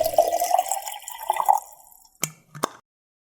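Water being poured to refill yerba mate: a steady trickle of liquid filling a gourd, then two sharp, distinct drips or taps at the end, close and quiet, with no talking.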